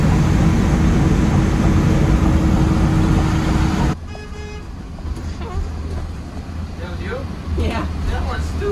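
A train horn fitted to a school bus on the road gives one loud, sustained blast lasting about four seconds, then cuts off, leaving the engine rumbling with faint road noise.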